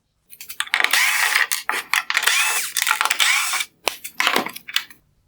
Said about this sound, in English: Next, I will remove the torque screws holding on the front black bezel.